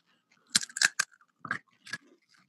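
Gluten-free pretzels crunch right up against the microphones in a handful of close, crisp bites, with short quiet gaps between the crackly bursts.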